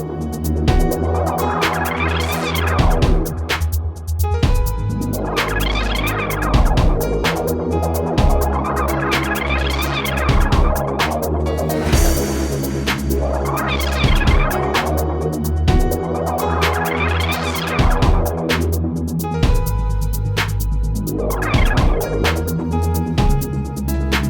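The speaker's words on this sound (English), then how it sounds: "did anyone notice that this first sample is sounding like seagulls?" A synth sample in a Bitwig music production session sounds like seagulls, playing swooping, rising and falling cries over a dense, loud bed of sustained tones and rhythm, with no talk.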